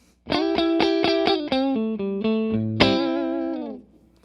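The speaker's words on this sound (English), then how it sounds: "Here is the sound of the guitar through the amp," Clean electric guitar notes through an amp: a quick run of plucked single notes ending on a sustained, ringing tone, clear and close.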